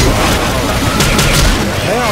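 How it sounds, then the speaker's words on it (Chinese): Gunfire in Left 4 Dead 2 on The Bloody Moors map: loud, dense booming shots that blur together into a continuous burst, mixed with a voice talking over the action. "刚刚我开枪"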